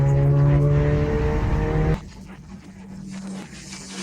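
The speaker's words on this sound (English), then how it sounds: "Right now we've connected our exhaust. We only removed the last muffler." Car exhaust with only the last muffler removed, a loud idle drone with a deep steady tone that suddenly drops to a quieter, rougher rumble partway through, no talk.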